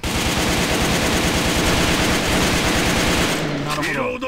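Sustained full-auto fire from an AN94 rifle during a test shoot in the online shooter AVA, loud and continuous for over three seconds before breaking off into a reload with mechanical clicks.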